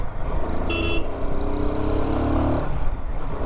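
A Royal Enfield Himalayan 450 motorcycle riding through traffic on a wet day, its engine droning and rising in pitch at close range against the rumble of surrounding vehicles, with a short high tone partway through.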